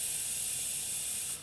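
An airbrush spraying paint onto a Meng Mustang model kit, a steady close hiss of air and paint that runs evenly throughout and tapers off at the end.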